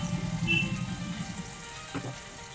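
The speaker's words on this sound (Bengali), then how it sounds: "এটাকে ভালো করে একটু নাড়িয়ে চাড়িয়ে একটু জল দিয়ে দিলাম" Onion with chilli, cumin and ginger pastes frying while being stirred for a raw jackfruit curry, a moderate steady sizzle with soft stirring scrapes and a brief clatter near the end.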